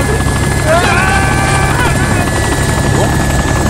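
Helicopter in the survival game DayZ whirring steadily with a dense rotor drone throughout, loud and close, while players shout over it.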